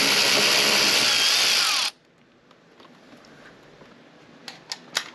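A power tool removes a 12 mm bolt on an 80 Series Toyota Land Cruiser: a loud, steady whirring drive for about two seconds, then it cuts off, leaving quiet room noise and a few faint clicks.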